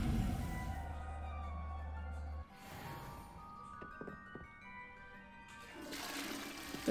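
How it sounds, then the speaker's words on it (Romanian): A toilet flushing in the Hogwarts Legacy video game, a soft rushing swirl of water that fades out, followed by quieter trickling and faint clinks, fairly low in volume. "Să tragem și apă, văd."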